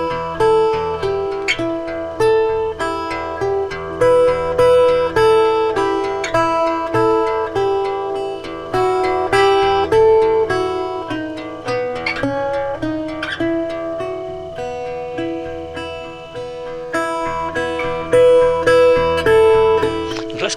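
Acoustic guitar fingerpicked with a treble melody line over a thumb-plucked bass placed on the offbeat, a steady, repetitive pattern of bright plucked notes played alone and close.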